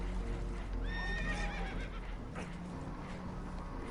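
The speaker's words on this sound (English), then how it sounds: "Horses are spooked" Spooked horses in Red Dead Redemption 2 let out a loud, close whinny that rises and falls, mixed with hoof clatter over a constant rumbling background.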